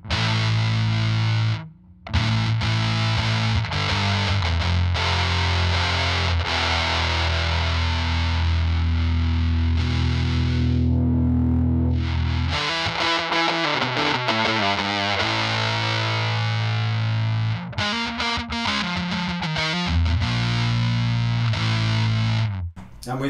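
Electric guitar played through a fuzz pedal offered as an alternative to a Big Muff, with the knobs set at noon, giving a loud, thick, saturated tone with sustained chords and riffs that run nearly nonstop, broken by a few brief pauses.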